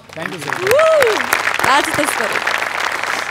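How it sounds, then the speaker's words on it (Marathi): An audience at a Marathi television comedy show breaks into loud applause. A rising and falling vocal whoop cuts through the clapping, which swells quickly and stays strong to the end. "त्यांच्यासाठी एकदा जोरदार टाळ्या"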